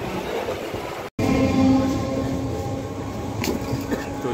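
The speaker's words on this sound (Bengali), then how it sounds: "এই হচ্ছে আমাদের ট্রেন, মোটামুটি এখন ফাঁকা।" A fairly empty passenger train moving at a station, giving a continuous rumbling roll with a faint tonal hum, steady and close.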